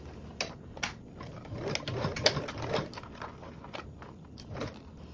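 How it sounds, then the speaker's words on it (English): A sewing machine stitches fabric at a quarter-inch seam allowance, a quick mechanical chatter in short bursts with a few louder clicks, close by and without talk. "And sew around with that 1/4 seam allowance."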